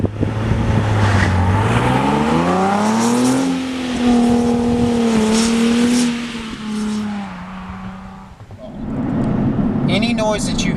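A 2013 Nissan 370Z on the road gives a droning induction tone that rises in pitch, holds, then fades, over steady tire road noise, with someone talking over it.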